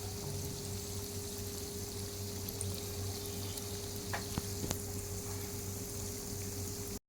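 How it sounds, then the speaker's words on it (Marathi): Donuts fry gently in oil in a pan over a low gas flame, producing a faint, even bubbling hiss with a couple of soft ticks and no speech. "डोनट मंद गॅसवरच शेकायचे आहे. हळूहळू आतील सर्व भाग शेकून वर येतात"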